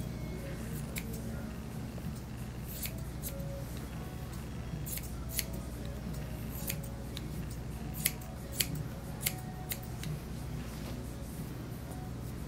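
Scissors trimming the ear hair of a Maltese dog during grooming, with steady, close, repeated snips over a constant low hum and a few sharper clicks.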